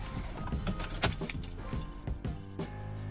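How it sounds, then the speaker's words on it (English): Keys jangle close up as the ignition key is turned in an Alfa Romeo Giulietta, a brief cluster of metallic clinks and rattles with a soft click near the end. "We'll just turn the ignition on."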